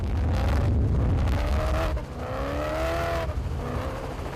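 An Atlas Copco Ford Ranger rally vehicle races at the Toyota Dealer 450 2014 rally. Its engine roars loud and close without pause, rising and falling in pitch as it revs hard, with a slight drop partway through.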